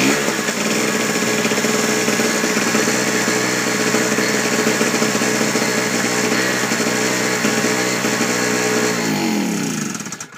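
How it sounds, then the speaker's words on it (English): A Harbor Freight portable generator runs with a steady, loud buzzing engine drone close by, holding constant for about ten seconds before winding down at the end. "we'll go ahead and start it up here"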